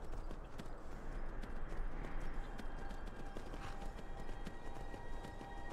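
Horse hooves galloping in the video game Skyrim, a steady rapid clip-clop of hoofbeats running continuously close up over a dense rumbling ground noise.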